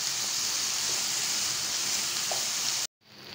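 Chicken and vegetable filling with chopped potato, carrot, coriander leaves and green chilli fries in a pan, giving a steady, dense sizzle with no talk that cuts off abruptly near the end.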